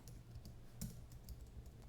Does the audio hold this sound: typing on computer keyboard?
yes